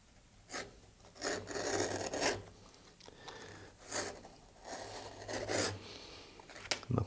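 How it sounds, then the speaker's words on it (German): A knife slices through leather to cut 18 mm straps for a leather hunting bag, heard as a series of close rasping, scraping strokes in uneven bursts with short pauses between. "Und dann schneiden wir die Riemen von 18 mm darunter."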